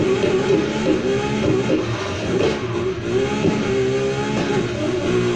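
A 2013 Ferrari LaFerrari engine revving hard during a drift event in Need for Speed Heat, loud and continuous with a steady high-pitched engine note that surges and dips with the throttle, no voices.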